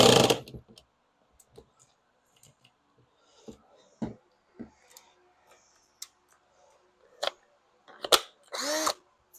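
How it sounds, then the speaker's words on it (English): A power drill goes in short, scattered bursts and clicks while working on a door window fix on a Porsche Cayenne, VW Touareg or Audi Q7, with quiet gaps between, rising to a couple of louder whirring pulls at the end. "I'm gonna go get a drill."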